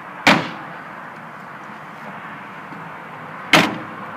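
Two loud, sharp metallic horse trailer door slams, a few seconds apart, over a steady low background rumble.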